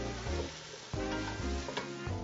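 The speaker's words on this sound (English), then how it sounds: "So next we're going to add the tempeh into our stew. Just going to give it a little stir." Tempeh is stirred into a sautéing stew of vegetables in a pot, with a continuous close sizzle and a few scraping stirs of a spoon, no voices.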